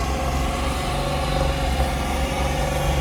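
Tractor engine with a newly fixed throttle linkage, running in a steady, close mechanical drone with a low rumble that holds even throughout, no voices.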